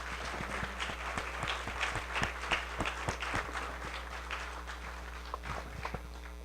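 Audience at a land trust annual meeting and 30th-year celebration applauds someone for 16 years of service, a moderate, scattered clapping with distinct individual claps standing out over a low steady hum.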